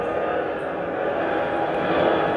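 American Airlines McDonnell Douglas MD-82 airliner at an airport, heard as a steady, broad jet engine roar that holds level throughout, with no other sounds standing out.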